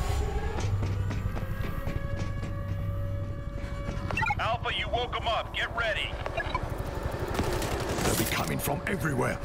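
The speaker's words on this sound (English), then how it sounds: "Place the machine gun." Machine gun fire in the World War Z zombie shooter, rapid bursts of shots amid chaotic game noise, with people talking over the action.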